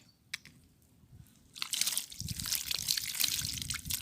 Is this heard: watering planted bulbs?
yes